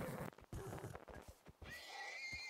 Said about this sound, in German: Ja, das sind Pferde.